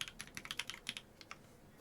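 Typing on an Oku computer keyboard, a quick run of crisp, close clacking keystrokes in an uneven rhythm that thins out toward the end, with no talk.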